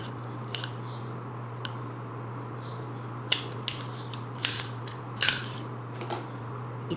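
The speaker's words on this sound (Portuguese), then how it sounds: "Venho com a tesoura" Scissors snip in short, crisp cuts while homemade straw molds are made from rolled paper cones, a few sharp clicks spread out and then clustered, close and fairly quiet over a steady low hum.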